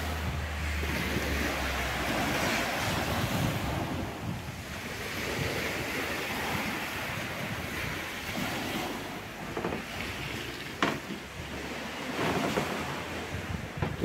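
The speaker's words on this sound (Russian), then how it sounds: "Море сегодня более-менее спокойное." Waves wash steadily on a fairly calm sea along the shore at New Athos, Abkhazia, a continuous close surf rush with gusty wind buffeting the microphone and no voices.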